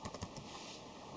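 Typing on a Microsoft Curve membrane keyboard: soft, muffled key presses in a quick run of taps, close and fairly quiet.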